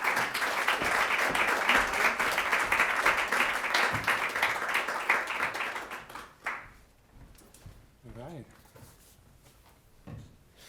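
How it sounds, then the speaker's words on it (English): Audience applause at a lecture welcoming a speaker: loud, dense clapping for about six seconds that fades out, followed by quiet room sounds and a brief voice. "So, round of applause."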